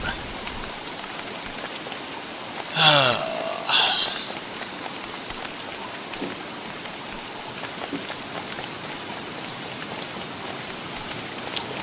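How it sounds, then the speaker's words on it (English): Steady nighttime rain patters continuously in the video game Don't Starve, a soft even hiss with a brief louder burst of other game sounds partway through. "And it's nighttime and it's raining."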